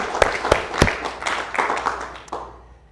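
A congregation claps at a church seminar on the tabernacle and the Ten Commandments. The applause is short and fairly faint, with a few sharp separate claps that settle into softer scattered clapping before dying away.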